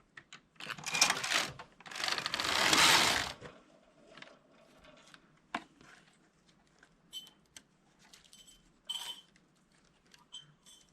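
A Passap E6000 knitting machine carriage slides back and forth across the bed, giving loud rushing, clattering sweeps early on, then quieter scattered clicks and knocks.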